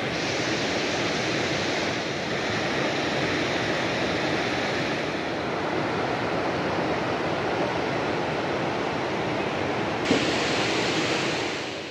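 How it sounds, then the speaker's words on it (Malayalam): A mountain river rushes along the trekking route near Grahan village above Kasol, a constant broadband roar of flowing water, loud and unbroken throughout with no voices. "ആൻഡ് ഇവിടെ ഒരു പുഴയൊക്കെ ഉണ്ട്, ഞാൻ കാണിച്ചു തരാം."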